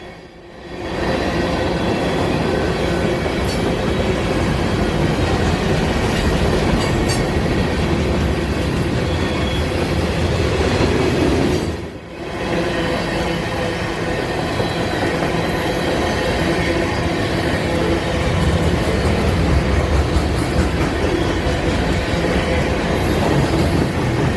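A long freight train of tankers, coil cars and gondolas rumbling past close by in northwest Georgia, continuous heavy clatter of wheels on rails with occasional squeals, lasting the whole stretch without talk.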